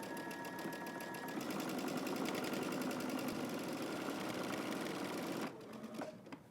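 A sewing machine runs continuously, stitching a double rolled hem along the front tie of a top. The steady close whir holds for over five seconds before stopping, followed by faint handling sounds.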